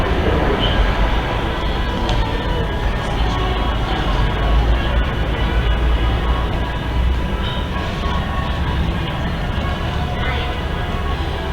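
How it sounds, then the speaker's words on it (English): A New York subway R train departs Canal Street station with a loud, continuous rumble of wheels and motors. Faint squeals and clacks rise through the roar, and voices may be mixed in underneath. "We're ready for the R train to depart."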